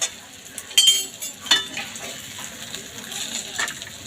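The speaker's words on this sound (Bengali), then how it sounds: "এগুলো সবগুলো আবার ভালো করে আরেকটু ভেজে নেব" Spices sizzle and fry in a pan for a young jackfruit kofta curry, with scattered scraping and stirring clicks over a soft, steady frying hiss.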